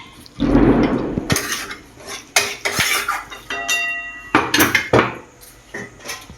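A lid is set over a pot of spicy mutton curry, with several loud metallic clanks and clinks of metal on metal in short separate bursts, close up and with no talk.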